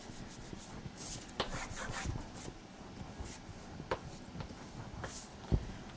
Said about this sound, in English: I turn it over before I rub it so I don't get glue on my fingers.